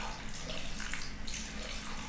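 Hot water from a hot water boiler pours in a steady, continuous rushing stream for making jelly for a trifle, close and fairly loud with no pauses.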